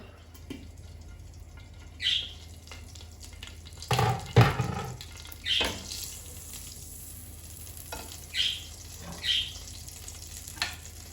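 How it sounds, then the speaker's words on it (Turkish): Meat sautéing in a small amount of oil while pasta cooks nearby in a home kitchen, a steady low sizzle broken by several short clatters and stirring bursts, close and fairly quiet with no talk. "Şurada da hemen etlerimi direkt az bir yağla soteleyeceğim."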